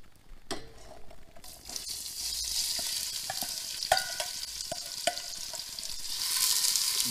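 Eggplant sautéing in a pan, a steady soft sizzle with scattered clinks and stirring scrapes, growing a little louder toward the end.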